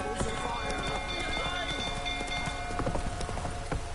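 A horse in The Witcher 3 video game gallops with rapid, rhythmic clip-clopping hoofbeats close by, accompanied by game music and a voice talking over it.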